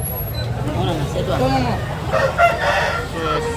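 A rooster at a Nellore poultry market crows loudly in a drawn-out call, close by, with market chatter and people talking all around.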